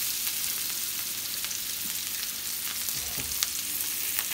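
Garlic and thyme roast in butter alongside Omaha-cut ribeye steaks, giving a steady close sizzle with faint crackles and a few soft utensil taps, no talking.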